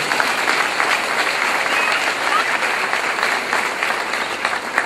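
A church congregation applauding during a sermon, a dense, steady wash of clapping from many hands that holds at an even, loud level for several seconds.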